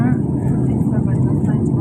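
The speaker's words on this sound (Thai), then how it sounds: "อยู่บนเครื่องบินไม่รู้สูงกี่พันฟิตนะคะตอนนี้" Steady, loud broadband drone of an airliner cabin in flight high above the clouds, a continuous low engine and air rumble without breaks, close and filling the space.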